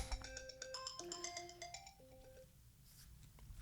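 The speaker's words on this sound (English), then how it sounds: "Oh, your phone's ringing." A phone rings in a room with a bright repeating electronic ringtone melody for about two seconds before it stops, fairly faint and heard alone against quiet background hiss.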